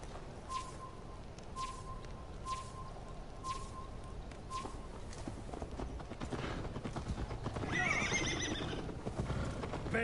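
A horse in Assassin's Creed Valhalla trots with rhythmic hoof clip-clops, then gives a loud whinny near the end, with faint bird chirps in the background.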